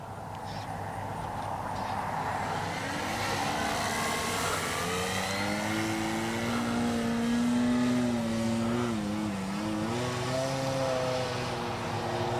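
A CNHL Bison XT radio-controlled STOL airplane flies overhead, its electric motor and propeller whining steadily and loudly, the pitch rising and bending as it climbs and maneuvers.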